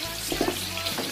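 Onion sizzles in hot oil in a pot for a large batch of egusi soup, a short steady frying hiss close to the listener with a few soft pops and a low background hum.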